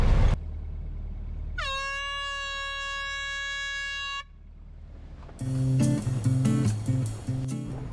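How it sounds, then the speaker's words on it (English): A sailing boat's foghorn gives a deep, steady blast with rich harmonics for about three seconds over low rumbling, then louder mixed noise with tonal bursts follows. "We've got our foghorn,"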